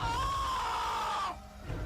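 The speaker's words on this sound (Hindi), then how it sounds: "अचानक किसी के चीखने की आवाज आई" A single long, loud human scream used as a sound effect in a horror story, sustained for over a second before cutting off abruptly into low background rumble.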